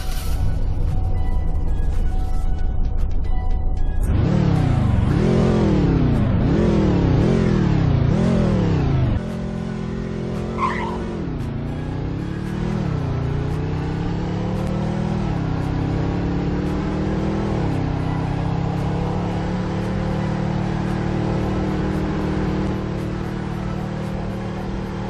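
A pickup truck's engine in the Greenville driving game, SS single cab trim, revving repeatedly in sharp rising bursts, then settling into a steadier climbing drone as it drives off, loud and close with no talk.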